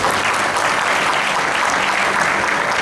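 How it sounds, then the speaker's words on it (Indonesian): Church congregation giving a brief burst of dense, loud applause during a sermon, steady clapping from many people throughout. "Ya, tepuk tangan dulu untuk Tuhan."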